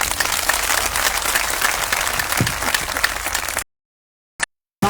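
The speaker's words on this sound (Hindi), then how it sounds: "एक बार जोरदार तालियों से स्वागत महिलाओं का।" Crowd applause at an outdoor protest sit-in at Jantar Mantar, New Delhi, welcoming women: dense, steady clapping for several seconds, then cutting off abruptly into silence.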